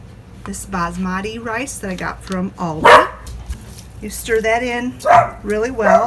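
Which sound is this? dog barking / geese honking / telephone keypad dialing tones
dog barking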